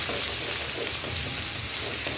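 Onions go into hot oil in a pan to fry for tomato red rice, giving a dense, steady sizzle with light stirring, close and continuous, no talking.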